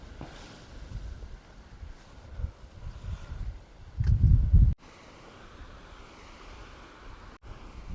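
Sea waves wash onto a Siargao shore, a steady surf roar with wind noise, swelling into a louder close surge midway before settling back to a constant wash.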